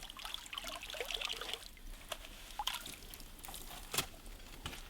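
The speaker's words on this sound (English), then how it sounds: "put it through a pan, and then we wash it up" Water trickling and sloshing as sand is washed through a gold pan outdoors, a soft steady liquid wash with a few small splashes, faint and without speech.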